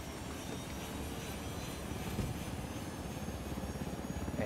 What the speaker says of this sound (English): Let's take the chopper.